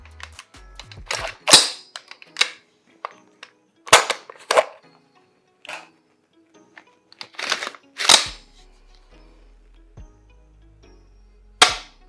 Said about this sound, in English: you can hear the positive reset. It sounds almost like a mil-spec trigger